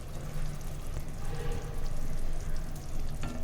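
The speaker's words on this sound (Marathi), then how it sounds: "इकडे आपल्या रश्श्याला सुद्धा छान उकळी आलेली आहे. आता ही भरलेली वांगी आपण याच्यात सोडूया." Stuffed brinjals go into a pot of boiling curry gravy, giving a steady close bubbling and sizzling hiss with a few soft splashes and clinks, no talking.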